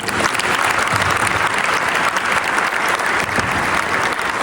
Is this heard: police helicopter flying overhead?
no